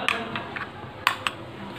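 A spoon clinks and scrapes against a metal pot of tomato chutney a few times, light scattered taps with two sharper knocks near the end, no talking.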